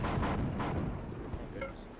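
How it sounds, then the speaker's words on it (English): Grenades explode against a wall in a video game, a run of dull, rumbling booms and bursts heard close, with a voice talking over them. "He's throwing grenades at the wall, but they don't go upstairs."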